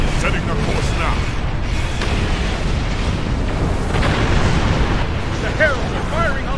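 Heralds' ships firing energy weapons on a destabilizing portal in the Star Trek Online space game, a dense continuous barrage of booming blasts and bursts with whistling chirps near the end, loud throughout under a busy battle soundscape.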